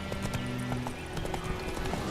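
A horse in the video game The Witcher 3 clops its hooves steadily with a short whinny, set against a dense, continuous game soundscape of ambient noise.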